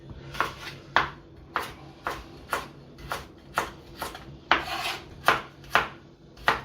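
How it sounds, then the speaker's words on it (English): A knife dicing carrots on a chopping board, about a dozen crisp, evenly spaced chops in a steady rhythm, close and clear with nothing else around them. "So nice little diced carrots."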